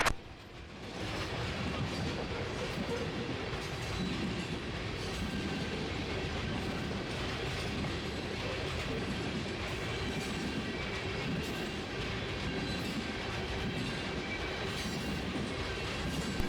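Canadian National locomotives and train cars roll past in Kentucky, a continuous loud rumble with clattering wheels and faint squeals, steady throughout as the train passes without pause.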